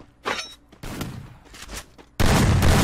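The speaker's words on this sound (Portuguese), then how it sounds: "Agora deu o tiro, levantou o gel, Lakiu." Several sharp, loud gunshot blasts from a video game, the last one a sustained heavy burst of gunfire after quieter rumbling bursts.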